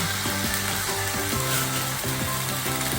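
Steady, close sizzling of chicken frying skin-side down in a hot pan, a dense crackling hiss that holds throughout with faint clinks underneath.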